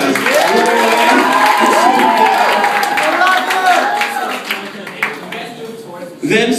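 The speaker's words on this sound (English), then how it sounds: "A round of applause for the neutral guys." A crowd at a church service claps, cheers and shouts, with children's voices, in a loud, lively burst that thins out toward the end while voices carry over it.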